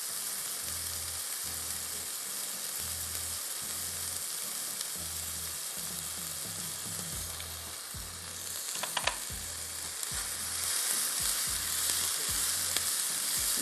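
Chicken mince sizzles as it fries with turmeric, chili powder and salt for biryani, a constant crackling hiss with rhythmic low scraping strokes from stirring and a few sharper clinks later on, without any talking.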